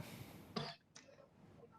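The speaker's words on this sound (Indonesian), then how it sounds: "nggak tidur jadi batuk terus" A single short cough, close and fairly loud, followed by a softer breathy sound in a quiet room.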